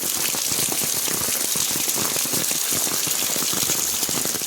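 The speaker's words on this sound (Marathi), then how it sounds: "मला समजत नाही पाऊस कधी थांबणार आहे" Steady heavy monsoon rain pours down in Vasai-Virar with a dense, continuous hiss that stays loud and even throughout, with no voices.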